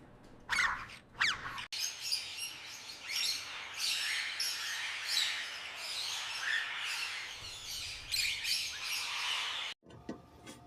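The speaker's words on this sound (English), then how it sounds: "I was talking about doing a video about the two parrots that I have" Two pet parrots chirp and squawk nearby in repeated sharp, bright bursts that run almost without pause, with brief gaps near the start and end.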